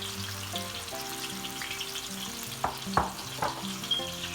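Sliced onion dropped into well-heated oil in a pan, a soft frying crackle with a low background hum, then a few distinct clattering stirs and taps near the end, close and fairly quiet.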